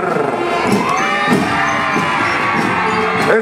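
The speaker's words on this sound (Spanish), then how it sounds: "Esas palmas te dejan escuchar en las graderías, en las tribunas." Crowd cheering, whoops and children's shouts rise from the stands at a school parade for an educational institution, a continuous loud roar of many voices with a few sharper yells standing out.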